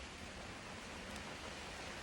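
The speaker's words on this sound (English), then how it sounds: "Oh, look at that rain" Rain falls steadily outside as a dense, even hiss with no breaks, fairly faint and with no voices.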